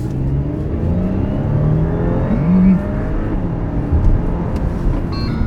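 Steady engine drone inside an Audi A7 55 TFSI, pitch gliding up smoothly as it accelerates, with a soft whine over the low rumble.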